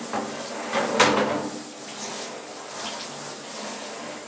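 Atari 800XL computer parts being rinsed under a shower, with soft splashing water and a few knocks and clatters of plastic, quiet and fairly close.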